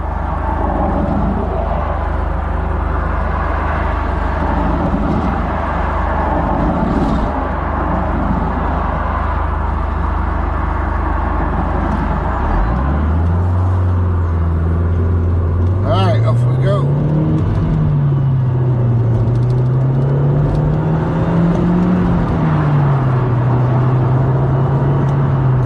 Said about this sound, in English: Well, a fair bit of traffic on this road